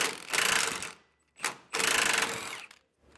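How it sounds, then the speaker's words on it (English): Two bursts of a power ratchet or impact tool spinning off nuts from the suspension bolts of a 2023 Venture RV trailer, loud buzzing whirs separated by a short click and pause. "we're going to pop these nuts off"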